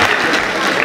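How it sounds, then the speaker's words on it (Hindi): Loud, dense applause from a poetry recital audience at a mushaira in a hall, a steady wash of clapping filling the whole short moment. "जोरदार तालियां"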